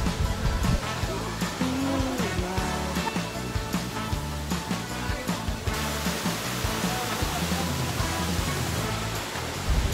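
Begaan Falls in Indahag, Cagayan de Oro City, pours in a continuous broad roar of rushing water, loud and close, with scattered rhythmic knocks and faint voices mixed underneath.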